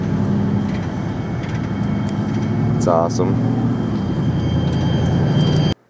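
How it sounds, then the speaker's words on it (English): A train passes a railroad crossing in the country, a steady loud rumble throughout with a brief horn-like tone midway, under short spoken remarks. "Oh, there's a train. What? Freaking train."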